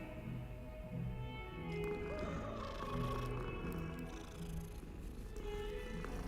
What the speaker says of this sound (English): Listen to those purrs.